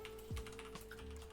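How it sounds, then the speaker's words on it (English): Typing on a computer keyboard, a short burst of light key clicks at close range with a steady hum underneath and no talk. "I'm going to finish typing this bit in"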